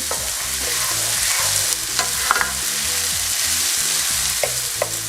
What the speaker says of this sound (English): So we just want to saute until it's translucent.